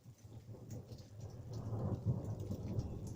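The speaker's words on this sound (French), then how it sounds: "il y a encore un peu de pluie là-bas" Rain falls steadily with deep, rolling thunder that swells in the second half, a continuous low rumble under the patter, heard close and fairly loud without any talk.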